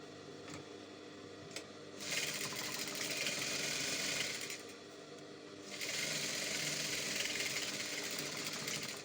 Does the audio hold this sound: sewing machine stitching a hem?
yes